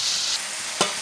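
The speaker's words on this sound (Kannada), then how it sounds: "ಇದು ಫ್ರೈ ಮಾಡ್ಕೊಡು ಕೆಂಪು ಬ್ರೌನ್ ಕಲರ್ ಬಂದಿಟ್ಟೆ ಫ್ರೈ ಮಾಡ್ಕೊಡು" Murumeen fish masala fries in a pan with a steady, close hiss of sizzling and one short scrape or stir near the end.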